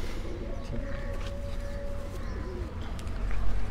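Rooftop pigeons kept by hobbyists in Sialkot coo softly among general outdoor noise and low rumble, with faint chirps and brief voices in the background.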